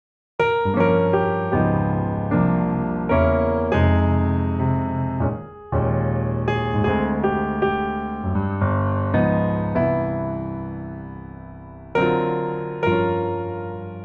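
A piano plays a reharmonized jazz chord progression of rich, sustained chords, moving steadily from one harmony to the next, each ringing and fading before the next strikes.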